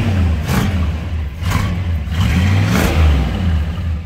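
A 1970 Plymouth Fury barn find with a steel-crank 440 V8 revs close and loud, rising and falling in about four blips over a rough, rumbling idle, with no talking.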